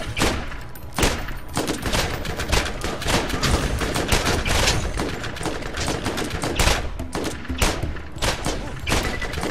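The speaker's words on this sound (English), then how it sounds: "No, the guy's shooting at us" Bandit gunfire in the Borderlands video game crackles nonstop, a dense barrage of rapid overlapping shots and bursts, loud and unbroken throughout, with no clear talk over it.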